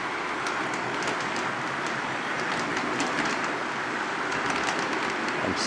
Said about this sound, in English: we're going to do a sound comparison of the clickety-clack of the train going by